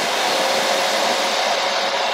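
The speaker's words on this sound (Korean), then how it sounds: "제가 드라이로 예열을 한번 해보겠습니다" A hair dryer blows hot air for heating up, a loud steady close-up rush of airflow that fills the whole stretch with no speech.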